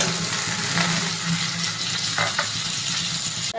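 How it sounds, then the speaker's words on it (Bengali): Chopped tomato fries in a pan of spiced oil for shukto, giving a steady crackling sizzle close by, broken by a few soft stirring scrapes and no talking. "ভাজা হয়ে গেছে এবার টমেটো কুচিটা দিয়ে দেবো"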